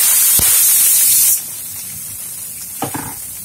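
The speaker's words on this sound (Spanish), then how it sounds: "vamos a echar otro buen chorro de aceite para freír la verdura" Vegetables frying in hot oil for spring rolls: a loud, bright sizzling hiss fills the first second or so, then drops to a softer, steady crackle with a few short clatters near the end.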